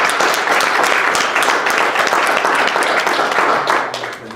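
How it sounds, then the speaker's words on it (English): A seated audience at a transit innovation talk applauds the speakers, loud dense clapping holding steady and tapering slightly at the close. "let's give our speakers another round of applause"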